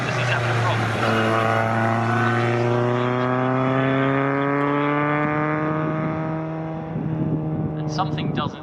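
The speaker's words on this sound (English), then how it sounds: "something doesn't sound entirely right with that car as it comes through" Race car at a Snetterton circuit race, running with an engine problem, droning past at low revs with a steady harmonic tone that slowly falls in pitch. A commentator talks over it.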